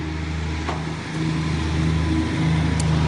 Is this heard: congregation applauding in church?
no